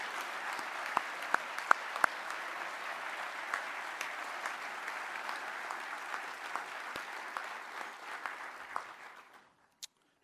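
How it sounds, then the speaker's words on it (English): An audience at a Navy acquisition award ceremony applauds for an honoree, a steady wash of many hands clapping that holds for about nine seconds and then fades to silence, with no talking. "Ladies and gentlemen, please join me in a round of applause for Captain Anthony Rossi, the 2019 Program"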